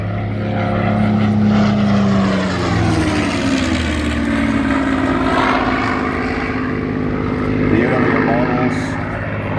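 A Supermarine Spitfire Mk IX propeller fighter's engine roars loudly and continuously overhead during an airshow display, its pitch shifting as it flies past, with no talk.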